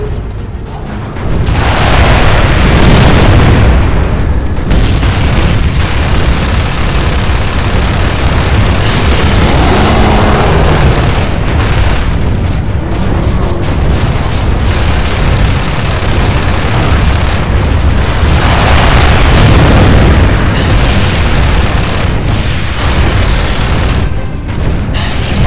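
A Brumak's heavy cannon fire in Gears of War 2 booms continuously and loudly, with the deep blasts overlapping into a dense, rumbling barrage.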